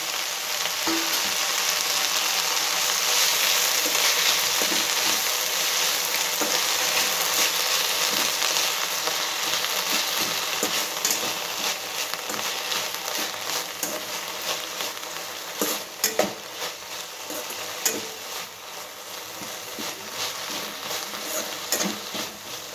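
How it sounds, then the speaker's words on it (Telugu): Mint leaves fry in a pan for pudina tamarind pickle chutney, a steady close sizzle with occasional stirring crackles and no voices. "ఇక పొదిరాకు వేయించుకుందాం ఇది ఎక్కువ వేయించే పర్లేదు"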